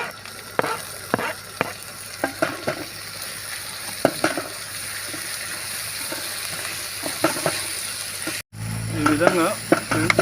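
Ginger garlic paste and tomatoes frying in oil for egg curry, with a soft, steady sizzle and repeated sharp clicks and scrapes of stirring in a pan. A short dropout comes near the end, followed by someone speaking over the frying.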